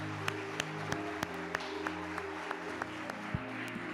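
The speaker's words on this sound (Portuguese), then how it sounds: "dê um aplauso a Yeshua." A church congregation claps together, with scattered individual claps ringing over a soft sustained background of applause and what sounds like held musical tones beneath.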